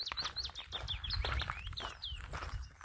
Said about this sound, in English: With all the birds singing.